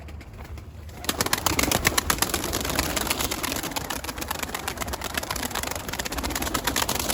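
Pigeons in a loft flutter and shuffle close by, a dense continuous rustle of wings and movement with soft murmuring calls, starting quietly and turning busy after the first second.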